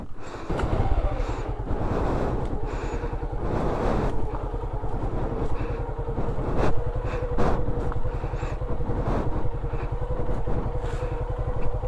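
A motorcycle climbs a mountain road in Mirinja Valley with a continuous low engine drone. Wind buffets the microphone and bursts of rattle pass through.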